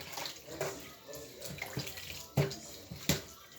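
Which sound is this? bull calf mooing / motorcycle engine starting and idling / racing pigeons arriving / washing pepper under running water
washing pepper under running water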